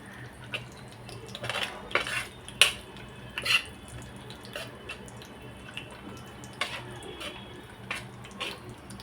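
A spoon stirs raw mango pickle with chili powder in a metal bowl, giving scattered clinks and scrapes against the sides, with a few sharper taps standing out over quiet kitchen background.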